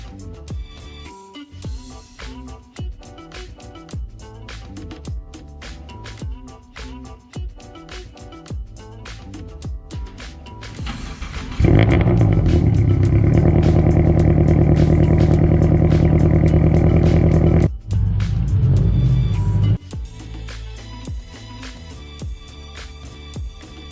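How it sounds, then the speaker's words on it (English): A Toyota GR86 engine cranks and fires up in a garage, settling into a loud, steady idle for several seconds before dropping off, with clattering and handling noises around it before and after. "let's go ahead and get the 86 started up and warmed up"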